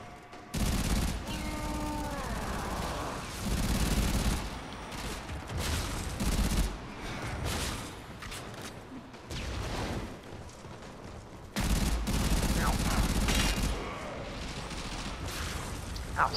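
Bursts of game gunfire in a Warframe co-op boss fight against General Sargas Ruk, with dense, loud volleys running nearly throughout and brief gaps between.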